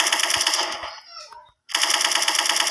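A Gatling gun in the shooter game Special Force 2 fires rapid, dense bursts, loud and close, with a brief pause before the spray resumes.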